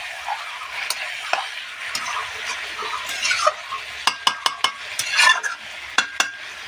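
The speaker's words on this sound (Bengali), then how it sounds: "টমেটো কুচিগুলো যে রেখেছি সেগুলো দিয়ে দিচ্ছি দিয়ে একটু নেড়ে চেড়ে" A spoon scrapes and stirs mutton with chopped tomatoes in a pot for a thin mutton curry, giving soft continuous scuffing and then a run of sharp, evenly spaced clinks against the pot near the end. No one speaks.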